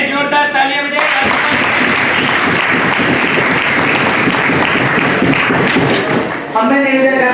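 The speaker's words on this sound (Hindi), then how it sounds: "एक बार पुनः जोरदार तालियां बजाएं।" An audience at an award ceremony in India's parliament claps loudly and steadily for several seconds, a dense wash of applause framed by someone speaking over a microphone just before and after.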